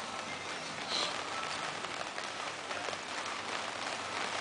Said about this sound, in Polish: No właśnie zaczęło padać.